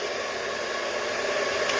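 A hair dryer runs on medium heat with a steady, close, breathy whoosh that holds at an even level throughout, with no talking over it.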